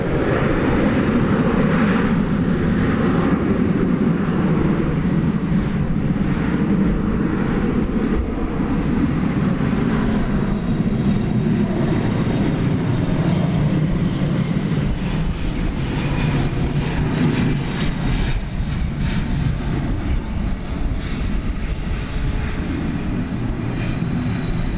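A DHL cargo airplane at DFW airport gives a loud, steady jet engine roar that holds throughout, broadening slightly as it passes close by, with no talking.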